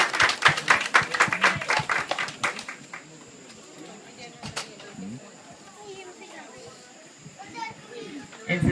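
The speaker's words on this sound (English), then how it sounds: "So let us give them a round of applause." Audience clapping to welcome dancers at a live performance, a dense burst of applause from a crowd that fades after about three seconds, with background voices and scattered sounds continuing afterward.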